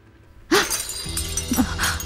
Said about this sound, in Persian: فکر میکنی حالا چند تا ظرف رو شکوندی